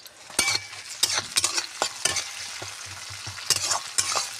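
Tomatoes frying with onions in a pan, a loud close sizzle broken by repeated sharp scrapes and clacks of a spoon stirring at an uneven pace.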